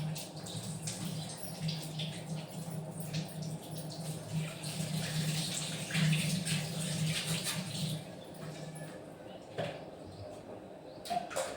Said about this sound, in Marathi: साईडला ठेवायला हात धुवून टाकते मी